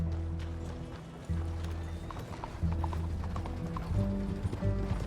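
Rapid clip-clopping horse hooves gallop steadily under a rolling rumble in Red Dead Redemption 2, with a few faint mechanical clicks and rattles mixed in.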